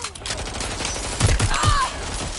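Gunfire in a video game firefight: a few sharp, close bursts and single shots clustered in the middle, over a busy background of game sound.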